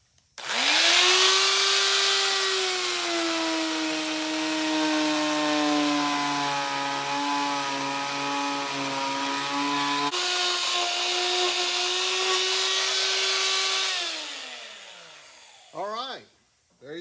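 A power tool grinds away the plastic nose of a Buick Regal, a loud, steady whining drone that shifts pitch partway through, then cuts off, followed by a few brief scraping sweeps.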